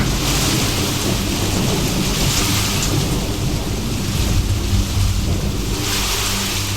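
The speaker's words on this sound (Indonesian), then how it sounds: "Bunyi petir menggelegar terdengar memekakkan telinga." Heavy rain pours down steadily with a deep, rolling thunder rumble underneath during a village disaster simulation in Gembong. The downpour is loud, dense and continuous throughout, with no speech.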